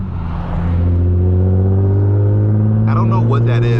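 A Nissan Z engine drones steadily under load while accelerating, a loud low tone that hesitates unevenly as it misfires, and someone speaks over it near the end.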